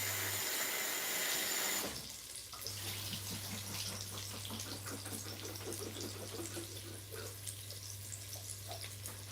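Butter beans rinsed under a running kitchen tap: after a loud burst of rushing water, a steady close stream splashes and patters over the beans, with a low hum beneath and no talking.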